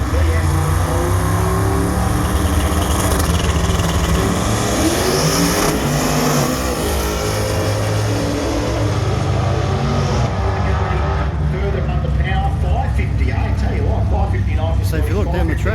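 Honda Civic EK drag car at a 1/8 mile radial drag race, loud engine roar and racing noise sustained throughout, with people talking over it.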